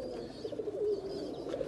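Teddy and Rampuri pigeons cooing softly and steadily in a low, continuous murmur, with faint higher chirps over the top and no talking.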